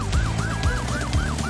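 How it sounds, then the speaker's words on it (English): A cartoon police car siren wails in a repeated rising-and-falling pattern, loud and steady over a rhythmic background beat, with no voices. "Our siren's back!"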